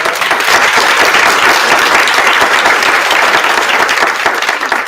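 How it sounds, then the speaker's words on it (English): Loud, sustained applause from an audience at a City College author reading and discussion, a dense, even roar of many hands clapping from start to finish without talk. "One round of applause for Maisy Card."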